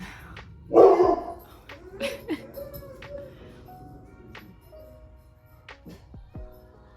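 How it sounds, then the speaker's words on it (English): Dogs bark in a home during a makeup routine, one loud close bark near the start followed by scattered lighter yips and barks over quiet background noise. "Dogs."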